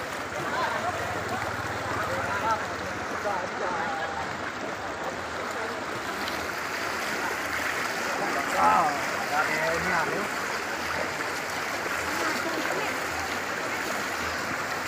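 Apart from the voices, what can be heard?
strong rushing floodwater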